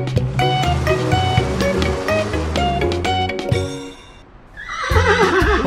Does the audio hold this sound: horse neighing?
yes